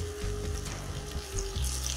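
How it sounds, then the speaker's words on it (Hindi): Garlic, ginger and green chili sizzle and fry in hot oil in a pan, a continuous crackling hiss with faint stirring scrapes, close and fairly quiet. "तो हमें तब तक भूनना जब तक कि ब्राउन नहीं हो जाता लहसुन और इनकी कच्ची महक नहीं चली जाती"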